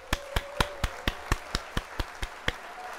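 A sharp, evenly spaced run of about eleven single claps, clean and close against a faint steady hum, like a short applause sound effect played during a model kit building livestream.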